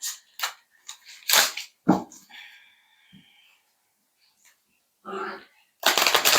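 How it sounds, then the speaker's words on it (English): Tarot cards riffled and shuffled by hand, several short sharp bursts of card flutter separated by pauses, close and fairly loud, with brief quiet talk between. "We'll do one more shuffle after this"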